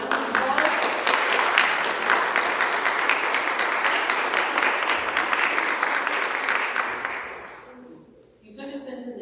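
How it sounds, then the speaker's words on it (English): A congregation at an annual church meeting applauds in a full, steady burst of many hands that tapers off near the end before a voice begins speaking. "Please give her a round of applause."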